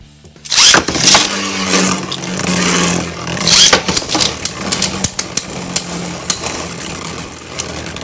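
Beyblades, Wind on a Bearing Drift driver against Dynamite on a Bearing driver, launch and whir loudly in a stadium, followed by a string of sharp clashing hits and ticks as the spinning tops collide and wind down.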